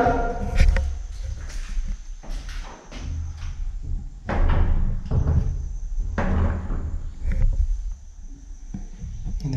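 Several sharp bangs of a door at irregular intervals, loud and close, with a steady high whine and low rumble running underneath.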